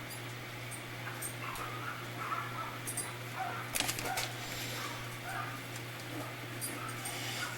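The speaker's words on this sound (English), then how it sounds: "Can you hear those dogs barking?" Faint dogs bark and whimper in the distance over a low steady hum, with a few brief, scattered yips and birdlike calls.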